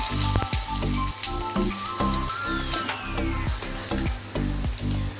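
Cumin seeds and crushed garlic crackle and sizzle steadily in hot oil for Khandeshi-style chilli, with clinks of a spoon stirring through the frying, close and fairly loud with no talking.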